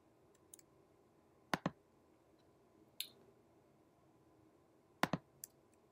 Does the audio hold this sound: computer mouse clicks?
yes